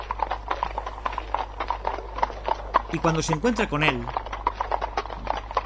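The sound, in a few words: horse galloping hooves, radio drama effect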